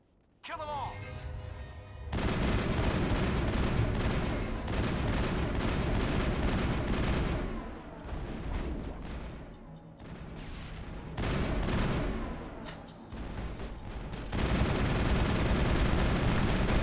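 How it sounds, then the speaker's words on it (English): Rapid gunfire from the video game Mass Effect 1 runs loud and dense almost without pause, with bursts overlapping one another and a brief dip in intensity near the middle. "that's a better volume for gunfire at the very least"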